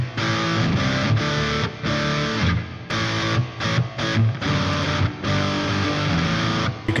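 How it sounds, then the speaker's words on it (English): Electric guitar played through an amp simulator in Axiom with reverb added for extra body, a distorted, sustained riff of chords in choppy bursts with brief gaps, loud and close, no talking. "Or if you just want to use the reverb for a little extra body,"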